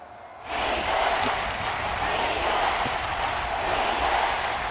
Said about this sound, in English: Tacoma crowd trying to get their team hyped.